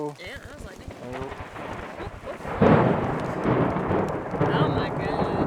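Thunder from a thunderstorm right overhead at a lake on the Fourth of July, a loud sudden crack and heavy rolling rumble that sustains to the end, with people talking and exclaiming beside it.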